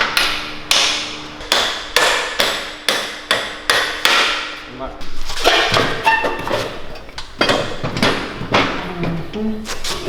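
A hammer pounds on a motorcycle part during a CR80 two-stroke engine swap on a Baja Warrior: a quick run of about ten sharp, close knocks, then scattered clanks and shuffling handling noise.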